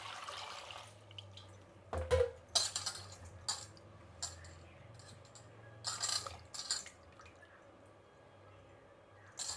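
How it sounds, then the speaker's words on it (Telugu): Cut potatoes are washed and water is poured before they go into a pressure cooker, giving quiet splashes, drips and sharp clinks against metal at irregular intervals over a low background hum. "ఇప్పుడు దీన్ని కడిగేసి నీళ్ళు పోసి కుక్కర్ పెట్టేద్దామండి"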